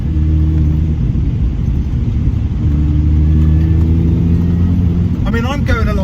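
A supercharged hot hatch accelerates hard along a narrow, fast country road, its engine note droning loud and steady close by with road rumble beneath, and a brief rising whine near the end.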